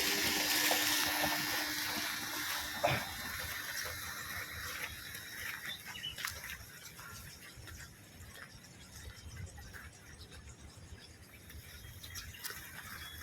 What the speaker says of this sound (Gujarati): આ ઘાસચારાને પાણી પાવા માટેનો બોર, તેમાંથી પાણી અત્યારે જાય છે અને આ ઘાસની અંદર જાય છે.